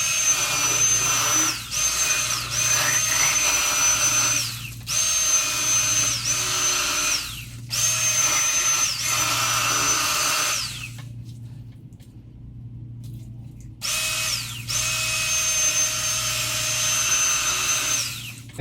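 An electric fillet knife works through a 12.5-inch crappie, its motor buzzing loudly in bursts that waver as the blade moves. A few short gaps fall between passes, including one longer pause, and no one speaks.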